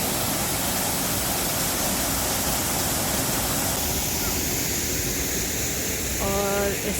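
Small waterfall at Brant Street Pier on the Burlington lakeshore, a loud continuous rushing wash of falling water filling the scene, with a brief faint tonal sound near the end.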